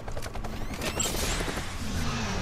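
Gunfire aimed at a cage in the video game Batman: Arkham Knight, rendered as a dense, continuous rattle of rapid shots with mechanical clatter, loud and up close for the whole stretch.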